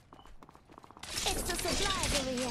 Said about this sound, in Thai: เสียงปืน